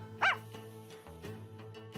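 In the game Apollo Justice, a dog named Shadow gives one sharp, loud bark, followed by a few softer yips and whimpers over a quiet musical background.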